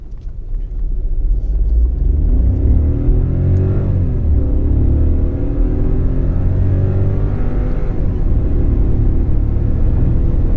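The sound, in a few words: Skoda Rapid car accelerating in drive mode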